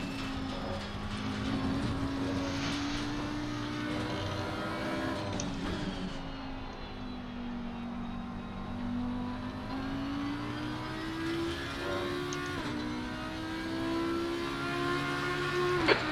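Race car engine screaming at full throttle around the Nürburgring in a racing game, a sustained loud drone with rising and falling pitch through gear changes and brief shift blips, continuous and alone.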